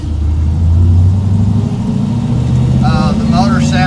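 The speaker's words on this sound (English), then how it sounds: "The motor sounds really throaty." A GMC K2500 pickup with a swapped LS 6.0 V8 and Muncie SM465 manual transmission rumbles loud and close with a deep, throaty engine note that swells slightly as it revs, with a voice briefly speaking near the end.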